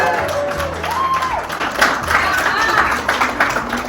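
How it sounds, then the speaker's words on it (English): Breakfast diner crowd in Bryson City, North Carolina, applauding and cheering for a couple celebrating their 25th anniversary, a burst of clapping and raised voices that swells midway, with people talking throughout. "The whole diner ended up cheering them on"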